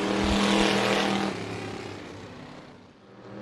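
Two race cars battle side by side on the back straightaway at Bakersfield Speedway, their engines a loud, droning roar that peaks and then fades as they pass and pull away.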